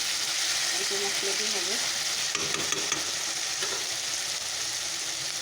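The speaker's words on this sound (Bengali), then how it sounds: "সবজিটাকে ভাজা ভাজা করে নিই অল্প মশলা" Vegetables fry in a pan with a strong, continuous sizzle and occasional clicks of a stirring utensil, close by, while someone speaks briefly over it.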